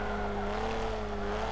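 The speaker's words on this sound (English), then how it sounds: "I think they're driving the MX-5, the Mazda MX-5," A Mazda MX-5 Mark 1 race car in the Forza 7 racing game, its engine holding a steady, sustained drone with a constant tone, loud and continuous throughout with no speech.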